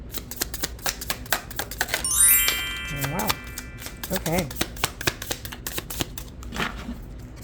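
Tarot cards riffled and shuffled in a few quick bursts of papery flutter and snapping, close to the mic, with a person briefly speaking between shuffles.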